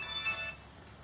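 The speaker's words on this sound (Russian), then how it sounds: "У вас телефон звонит, Игнатий." A telephone rings in a short electronic trill that cuts off after about half a second, leaving faint room tone, with no talking.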